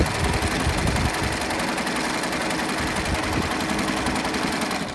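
Singer M3505 sewing machine stitching a straight line of fabric, a fast steady mechanical whir with rapid needle chatter, close and continuous with no voices.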